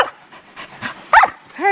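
A dog sniffs and pants at a turtle outdoors, giving quick repeated snuffling breaths in short bursts, with a louder huff and a whiny vocal noise toward the end, close to the microphone.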